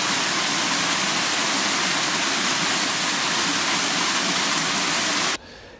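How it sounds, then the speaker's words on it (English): Heavy rain pours down outdoors, a dense steady roar of broadband wash that holds loud and unbroken for over five seconds, then cuts off abruptly near the end. "It is pouring down here at the moment."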